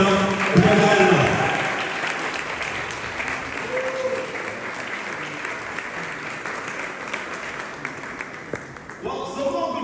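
Applause from guests at a football cup press launch held at a residence, moderate clapping that fades gradually over several seconds, with brief voices breaking through near the start and end.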